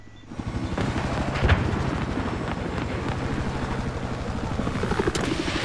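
Helicopter rotor noise from Battlefield 4 Obliteration gameplay, a steady loud thrum sustained throughout with bursts of gunfire mixed in, no talk.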